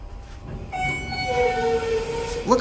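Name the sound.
Schindler 300A hydraulic parking garage elevator motor running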